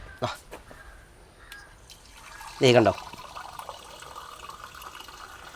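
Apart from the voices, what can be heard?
water flowing back down from a water filter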